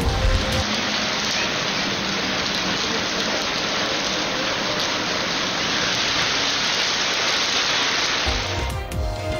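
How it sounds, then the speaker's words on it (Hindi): Light drizzle in Islamabad patters as a continuous, even hiss of rain on surfaces, close and steady for the whole stretch, with no talk. "इस्लामाबाद और रावलपिंडी में बूंदाबांदी से मौसम सुहाना।"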